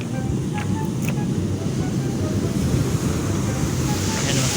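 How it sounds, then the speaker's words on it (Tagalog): Strong sea waves roll in at a beach, a constant loud roar of surf mixed with heavy wind buffeting the microphone, and faint voices in the background. "Ayan, lakas ng alon"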